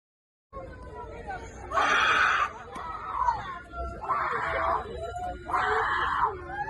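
People scream in three separate bursts over a steady background of chatter and noise, the screams loud and shrill, each lasting about a second, heard in a shared recording.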